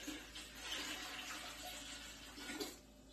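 Water poured into a pressure canner before jars go in for canning turkey broth, a steady splashing stream running quietly and continuously, with no talk.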